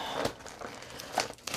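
Close, crinkly rustling and tearing of wrapping paper as a package is unwrapped, in irregular bursts with no voices.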